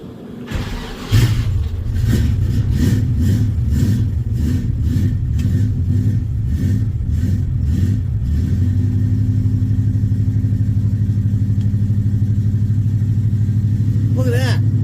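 A truck engine cold start, close and loud: a run of rhythmic cranking pulses gives way to the engine catching and settling into a steady, rumbling idle.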